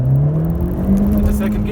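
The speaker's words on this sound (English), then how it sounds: "We're starting off at 0, floor it" A Honda CR-V 1.5 turbo VTEC accelerates from a standstill at full throttle, its engine tone rising steadily from inside the cabin while someone speaks over it.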